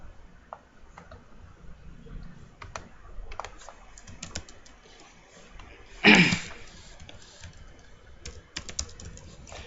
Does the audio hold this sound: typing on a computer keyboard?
yes